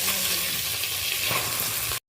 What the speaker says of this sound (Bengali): মাছগুলো হালকা করে আমি নেড়ে নিচ্ছি, উল্টো পাল্টে ভালো করে লালচে করে ভেজে নেব।